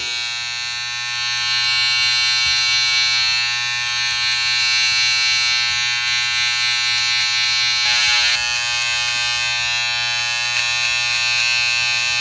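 Electric hair clippers with no guard running against a bald head while grooming, a loud, steady high-pitched motor buzz that continues for the whole stretch with no speech.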